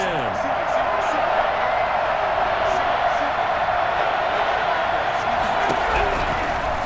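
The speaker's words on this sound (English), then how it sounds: "Crowd getting in it a bit already." A virtual stadium crowd in the Madden NFL 21 football video game keeps up a steady, loud roar of cheering from start to finish.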